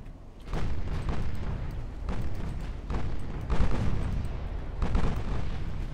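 Torpedo hits and an ammunition detonation in the naval battle game Ultimate Admiral Dreadnoughts, a run of heavy, rumbling booms that come in repeated bursts about a second apart, loud and unbroken, with no voices over them.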